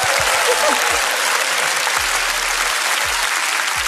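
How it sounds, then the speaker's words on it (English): Lively applause fills a lounge during an evening show for a recording studio and band, dense and loud clapping from a crowd with a few low thumps underneath. "You get an applause too."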